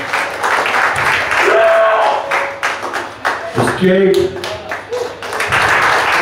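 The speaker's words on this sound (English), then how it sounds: "come on, the applause, give him a ninth ward" Concert audience at a youth club gig clapping and cheering loudly throughout, with a voice calling out over the noise and a brief shouted word amid the crowd.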